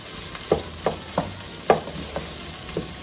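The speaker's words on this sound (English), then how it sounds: "Let this cook a little bit, cook some of that raw flour out." Flour for chicken and dumplings cooking in a pot, giving a low steady sizzle with about six soft stirring scrapes spaced roughly evenly, close and fairly quiet, no talking.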